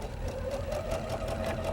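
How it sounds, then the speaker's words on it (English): Sewing machine running steadily while stitching an anchor cloth onto a quilt block, a fast even whirring needle rhythm at close range with no talk. "we'll start out by sewing on an anchor cloth"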